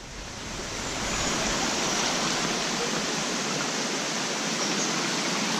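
Nohkalikai waterfall in Meghalaya, the tallest in India, pours in a steady, dense roar of falling water that swells in the first second and then holds loud and continuous, with no voices over it.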